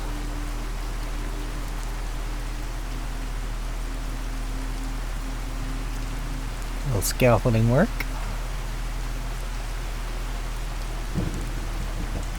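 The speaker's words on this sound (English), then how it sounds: "Man, that rain just does not stop." Constant rain falls in the Fallout 4 video game on PC, a steady hiss with a low hum beneath, and someone speaks briefly over it partway through.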